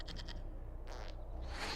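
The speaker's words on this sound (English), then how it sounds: "we discovered this man attacking the building with a goat" A goat in the Dragon Age: Inquisition video game bleating faintly in a few short cries against a quiet background.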